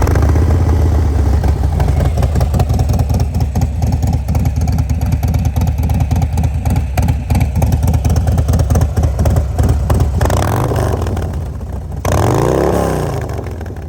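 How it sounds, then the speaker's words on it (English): A Harley-Davidson Road King with a Milwaukee-Eight 107 engine and aftermarket cam runs loud and close, a choppy loping idle with rhythmic thumping and revs, then drops briefly before picking back up near the end. "I'll go ahead and fire it up, let you hear it."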